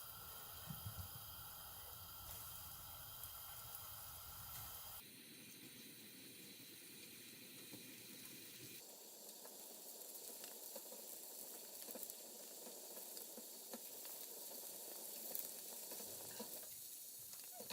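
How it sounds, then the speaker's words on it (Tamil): Paneer pieces sizzle and fry in coconut oil, a steady close crackling hiss that continues without pause. "இதற்குள்ள பன்னீர் துண்டுகளை கொஞ்சம் கொஞ்சமாக போட்டு பொரித்து எடுப்போம்."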